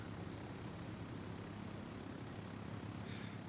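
Inside a BN-2A Islander twin-prop plane, island hopping from Sint Maarten to St. Barts, a steady low propeller engine drone fills the cabin, constant and unbroken, with no voices.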